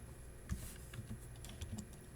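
Soft plastic key presses on a graphing calculator keypad while entering equations, a handful of quiet, irregular taps close to the microphone with no talking.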